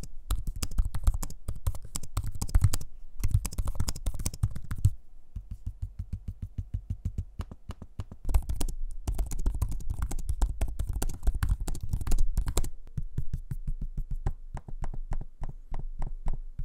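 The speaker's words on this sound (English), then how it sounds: "Here's a quick audio sample of me using both keyboard and trackpad so you can hear what they sound like." Keys clatter on a Samsung Galaxy Book laptop keyboard, mixed with trackpad clicks: rapid, close, crisp taps in bursts broken by short pauses, with no talking.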